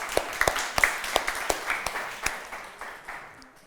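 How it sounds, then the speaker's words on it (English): A small conference audience claps at the end of a talk, with a sparse handful of distinct claps forming a loose, uneven rhythm that thins out and fades over a few seconds. "if you want to clap, thank you."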